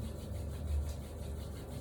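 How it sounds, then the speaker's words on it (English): Palms rubbed together to warm them during a prenatal yoga session, a steady close soft friction sound lasting about two seconds, no speech. "Rub your palms until they're warm."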